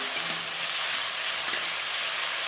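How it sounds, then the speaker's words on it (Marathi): Potato pieces frying in hot oil for sabudana khichdi, a dense, close, continuous sizzle with a few soft stirring clicks over the short stretch, no talking. "बटाटा आपल्याला तेलामध्ये चांगला फ्राय करून घ्यायचा आहे"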